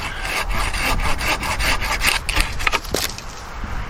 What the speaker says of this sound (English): we make a cut out here and it blows the sawdust right back in your face